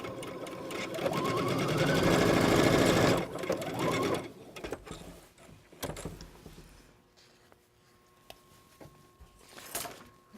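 A sewing machine stitches a 5/8 inch seam on a shirt sleeve, running loud and steady for about three seconds before slowing into softer, intermittent mechanical clicks and handling sounds.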